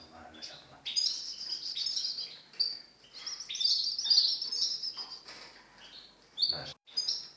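Goldfinches in mating season, with a pair tending their nest in July: bright, rapid twittering and chirps in near-continuous bursts, close and clear, with brief pauses between phrases.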